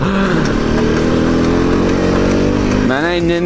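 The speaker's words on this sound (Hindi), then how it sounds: "मैंने इंजन ब्रेकिंग करी तो टायर आवाज आई" A new motorcycle's engine drones loudly and steadily under engine braking on the road, then pitch shifts near the end as speed changes; a voice talks over the engine throughout.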